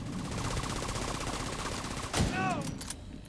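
Gunfire in a first-person video game strikes an enemy's body: a steady crackle of rapid shots runs throughout, then a sharper, louder impact with a brief ringing tone near the end.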